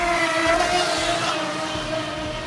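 A continuous high-pitched motor whine from a radio-controlled model boat, steady and fairly loud, holding a near-constant pitch with slight wavering.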